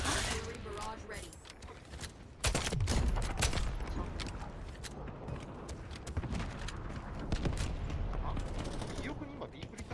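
A heavy barrage of gunfire and mechanical clatter in the shooter game Delta Force erupts partway through and keeps rumbling loud and dense, with players talking over it.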